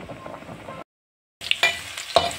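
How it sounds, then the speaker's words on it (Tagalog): Carrots frying in a pan, a close sizzle broken by a brief gap of silence, then louder crackling and spatter with a few sharp pops. "piniprito ko yung honglopo carrots"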